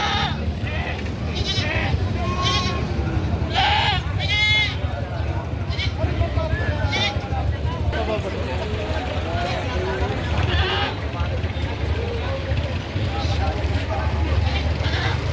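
Goats bleating in a busy livestock auction market for cattle and goats, repeated bleats rising over steady crowd chatter and background noise, with people talking throughout.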